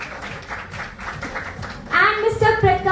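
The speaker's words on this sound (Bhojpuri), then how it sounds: "प्लीज जोरदार तालियां हो जाए" An audience at a live Bhojpuri film stage event claps in a brisk patter of applause, with a voice talking over it and a louder speaking voice rising near the end.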